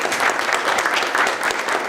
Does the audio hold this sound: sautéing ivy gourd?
no